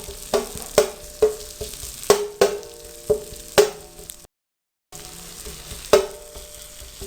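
Green chillies frying in oil on a tawa, a steady sizzle broken by regular sharp scrapes and taps of a spatula against the pan, with a brief silent gap midway.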